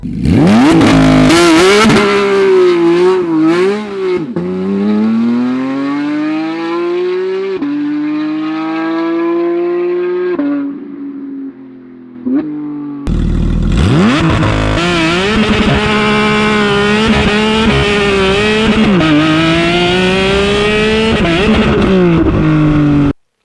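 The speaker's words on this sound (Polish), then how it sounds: "posłuchajcie, jak niesamowicie brzmi ten układ wydechowy" Porsche GT3 RS fitted with a sports exhaust system, revving loudly and close by, its tone rising and falling through several throttle blips, a brief dip near the middle, then a sustained high rev with no talk.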